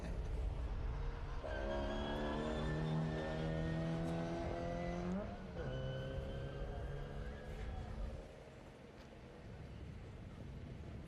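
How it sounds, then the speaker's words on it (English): A historic race car with straight-cut gears accelerates off the line at a grassroots sprint meet, its whining gear tone rising through several shifts, fairly distant and thin under wind noise. "The unmistakable sound of straight cut gears."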